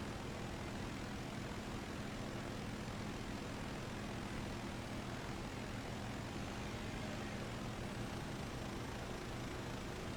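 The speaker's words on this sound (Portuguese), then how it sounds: "esse helicóptero não vai mais rápido que isso não" Steady, continuous aircraft engine drone of a helicopter flying in the MindsEye video game, a dense broadband roar holding level throughout with no talk over it.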